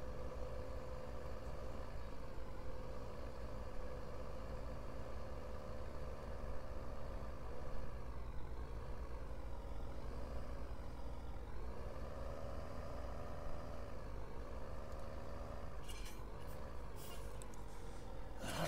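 A tractor engine idles in a farming video game, a low steady rumble that holds at an even level throughout, with a few brief clicks near the end and no talk.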